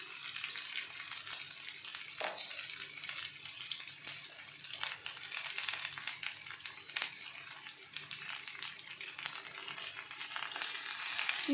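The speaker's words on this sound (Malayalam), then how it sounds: "ഇനി ഇത് ലോ ഫ്ലെയിമിൽ കുറച്ച് സമയം വഴറ്റിയെടുക്കണം." Okra (lady finger) for a Kerala thoran sautés on a low flame with turmeric and salt, giving a steady, close crackling sizzle with occasional soft stirring scrapes throughout, no talking.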